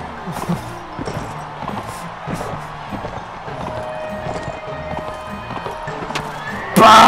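Horses galloping in the game Mount & Blade Warband, a steady run of hoofbeats with a loud neigh near the end, set against a busy battlefield background.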